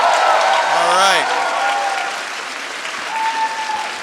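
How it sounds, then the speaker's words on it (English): A crowd applauds the fighters at a medieval MMA event, a dense wash of clapping and cheering that holds steady throughout. Short whistles and shouts rise out of it near the start and again toward the end. "Let's give them a big round of applause."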